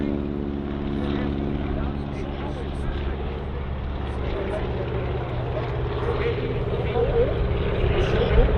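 A propeller airplane flies at the Aero Gatineau-Ottawa air show with a wingwalker strapped to a pole on top, its engine a steady, loud droning hum that swells slightly toward the end.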